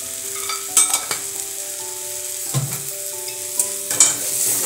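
Turmeric being stirred into a country chicken curry in a pan on the stove: close spoon scrapes and knocks over a steady sizzle, with soft tonal music in the background and no talking.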